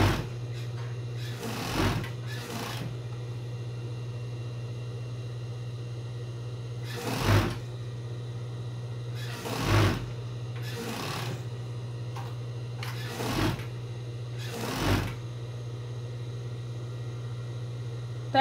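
A sewing machine runs in short separate bursts of stitching, sewing elastic along the edge of bikini panties with lining and fabric layered together, against a steady low hum with quiet pauses between the runs.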